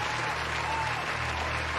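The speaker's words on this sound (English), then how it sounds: "Hey, applause every time. Where's the applause?" Applause sound effect dropped into a Pokémon Scarlet gameplay session, a steady wash of clapping that holds at an even level for about two seconds with no voices over it.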